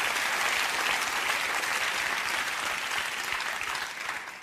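Audience applause at a German comedy show, a dense steady burst of clapping from the crowd that tapers slightly toward the end.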